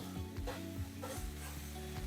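Velveted beef sizzling and browning as it is spread across a hot pan, a steady close fry with occasional stirring scrapes, and no one speaking.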